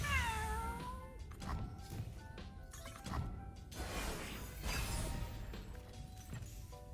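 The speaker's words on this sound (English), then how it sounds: "Whoa, cat." A cat meow in a digital card game, a drawn-out falling yowl at the start followed by crashing smash effects and game sounds, fairly faint overall.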